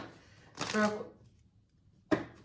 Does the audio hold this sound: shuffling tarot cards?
yes